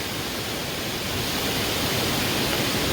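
A steady, unbroken roar of falling water at Savatsada waterfall fills the whole stretch, loud and even, with no voices.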